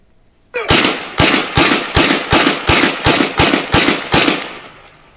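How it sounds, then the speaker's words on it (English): Gunshots ring out during a police officer-involved shooting: about nine loud, sharp reports fired in a fast, evenly spaced volley, each with a short ringing tail, close and dominant with no speech over them. "shots fired"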